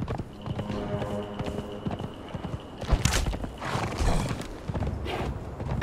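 Horse hoofbeats galloping in the video game Conan Exiles, a steady clip-clop rhythm with creaks and a brief neigh amid busy game sounds, fairly close and loud throughout.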